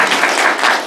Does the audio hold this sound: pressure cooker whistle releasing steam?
no